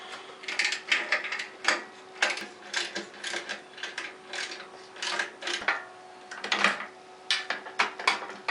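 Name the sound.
ratchet wrench undoing motorcycle muffler clamps, Kawasaki Vulcan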